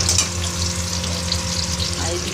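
Ivy gourd and potato fry with onion in a pan, giving off a steady, close sizzle with a low hum underneath.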